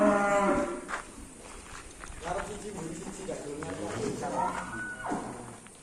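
A tall PO contest cow lets out a loud, drawn-out moo at the start and a second moo toward the end, with rustling and shuffling livestock noise in between.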